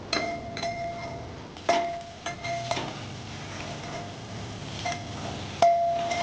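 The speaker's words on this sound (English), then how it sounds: "now I'm going to stir all this well for 2 or 3 minutes" Metal spoon stirring spices in a cooking pan in a home kitchen, with scattered clinks and scrapes at an irregular pace, fairly quiet and close, with no talking.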